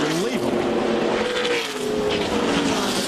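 Stock cars at a NASCAR race, the 2012 Drive4COPD 300, crashing heavily in the final corner, with tire squeal and dense engine roar sustained loudly throughout under an excited commentator's voice.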